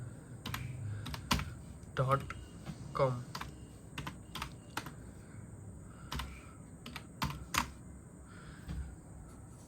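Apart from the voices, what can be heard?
typing a website address on a computer keyboard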